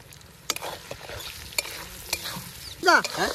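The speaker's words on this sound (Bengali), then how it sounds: "আলুগুলো দিয়ে দিলাম" Unpeeled potatoes sizzle in a frying pan while a spatula stirs them, giving repeated sharp scraping clicks over the hiss, with a short tonal sound near the end.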